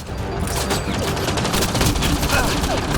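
Dense gunfire from an assault rifle in the sci-fi shooter Mass Effect Andromeda, fought on planet Eos: a steady barrage of rapid shots and impacts, loud and continuous throughout.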